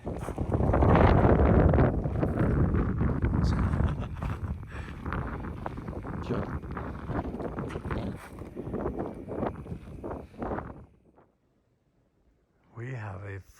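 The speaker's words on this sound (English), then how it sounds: "It's windy." Strong night wind near Mount Wilson buffets the microphone in loud, rumbling gusts that gradually ease, then cut out briefly before another gust returns.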